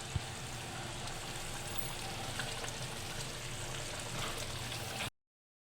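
Dal with spices and spinach is mixed in a cooking pot, a faint continuous scraping and wet sizzling texture with soft clinks, ending abruptly in silence.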